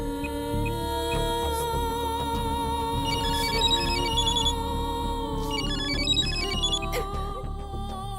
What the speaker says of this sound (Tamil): அறிவு, கஜாவுக்கு ஃபோன் பண்ண.